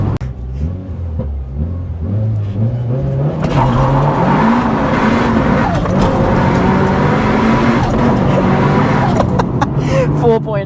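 A Mitsubishi Evo 9 accelerates hard on a timed run, its engine climbing loudly through the gears with a droning in-car roar that stays strong throughout.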